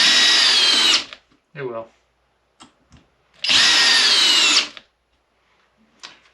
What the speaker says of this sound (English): Pretty solid little drill for the price, really.